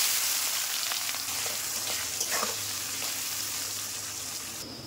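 Onions sizzle steadily in hot oil with turmeric and salt, a close, bright, continuous frying hiss with faint stirring scrapes and no talk over it.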